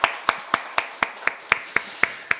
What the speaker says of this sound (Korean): 우리 늘사랑의 뜨거운 박수로 환영합니다